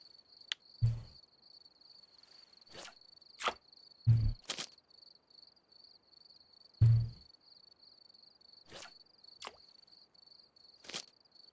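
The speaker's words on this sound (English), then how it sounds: "the amount of chirping you get from crickets in this area" Crickets chirp around a calm fishing spot in a game where crucian carp are caught, with a steady high trill running throughout and several sharp clicks and louder knocks scattered over the quiet background.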